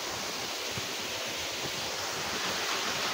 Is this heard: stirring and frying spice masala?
no